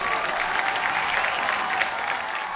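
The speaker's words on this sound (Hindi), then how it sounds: "जोरदार तालियां।" Studio audience on The Kapil Sharma Show breaks into loud, sustained applause, a dense, even roar of clapping throughout.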